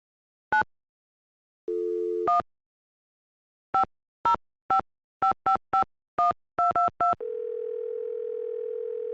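A telephone in the Nancy Drew: Secret of the Scarlet Hand game gives a short dial tone, then a string of crisp keypad beeps tapped at an uneven pace, and ends on a steady, clean tone, all with no talk.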